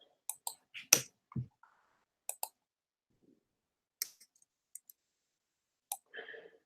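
A handful of sharp, scattered clicks, like a few quick keystrokes in short bursts with quiet gaps between, close and clear, with no talking.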